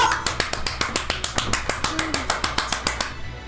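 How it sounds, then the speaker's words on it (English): Clapping effect in a video game: a steady series of sharp, evenly spaced claps, about four per second, close and crisp, stopping near the end. "That's the clapping, by the way."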